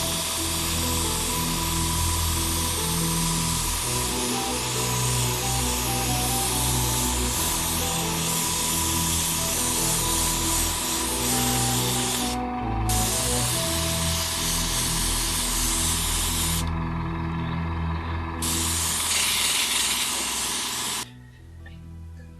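An airbrush sprays face paint in a continuous close hiss, broken only by a few brief pauses, before it cuts off near the end.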